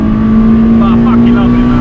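Honda Civic EP3 with an M2 backbox drones loudly at about 5,500 rpm, a sustained steady engine tone heard close from inside the car, with a voice briefly audible over it.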